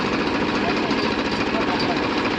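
Tractor engine running steadily in a farm field after being started by push or tow, a loud, dense continuous rumble close by.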